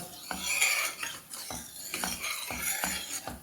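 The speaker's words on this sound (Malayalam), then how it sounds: "ഇനി നന്നായിട്ടൊന്ന് ഇളക്കി കൊടുത്ത് തിളപ്പിക്കാം" A ladle stirs water into cooked lentils in a pressure cooker pot, producing rhythmic scraping and metallic clinks roughly every half second over a watery swish, close and clear with no voices.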